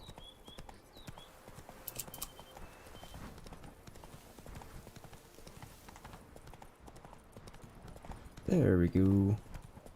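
Roach the horse's hooves clip-clopping in a steady galloping rhythm in The Witcher 3, close and continuous beneath someone talking, with a loud whinny near the end.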